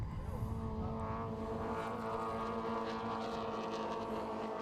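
Racing cars exit a right-hand corner at a circuit and head onto a straight, their engines droning with rising tonal whine, moderately distant and continuous.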